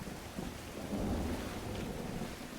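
Steady rain with a low rumble of thunder in the survival game Survival: Fountain of Youth, a continuous wash of noise with a deeper rolling swell near the middle.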